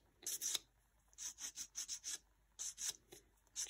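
Sandpaper rubs a small polymer clay button smooth in quiet, rhythmic back-and-forth strokes, close and soft, in short runs with brief pauses.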